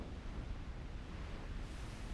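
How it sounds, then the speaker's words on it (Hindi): Sea water pulling back from the shore in an anime scene, heard as a steady, dense wash of surf and wind-like noise that holds level throughout with no voices. "समंदर का पानी पीछे जा रहा है"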